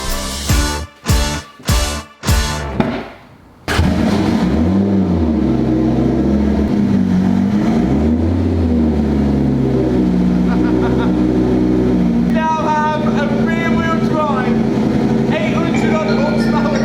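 A Lamborghini Gallardo converted to rear-wheel drive gives several short, loud revs, then settles into a sustained, roaring engine note that rises and falls.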